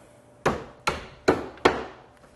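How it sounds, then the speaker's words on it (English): Four sharp hammer taps fitting a cap onto a metal pin of a toy pumper car, evenly spaced about half a second apart, each ringing briefly before fading; close and clear with no voices. "And then gently tap that on with a hammer."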